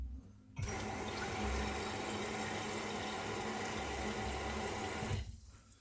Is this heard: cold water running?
yes